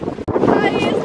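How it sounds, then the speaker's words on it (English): Strong wind buffets the microphone on a sunny beach in Grand Cayman, a steady loud roar with a brief dropout near the start, while someone talks close by throughout. "It is beyond windy right now"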